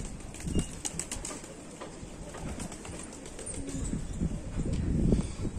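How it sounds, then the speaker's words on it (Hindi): Sialkoti Batera rooftop pigeons coo in low, soft, repeated phrases close by, with faint scuffles and a slight rise in level toward the end. "प्योर बटेरा छत वाला कबूतर है जी हाई क्वालिटी बटेरा"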